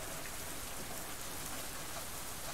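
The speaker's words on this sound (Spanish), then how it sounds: "Todavía estaba lloviendo." Steady rain falls throughout, a dense, even hiss of drops on a surface at moderate level, with no voices or thunder; heard as an ambient background in a furry visual novel game.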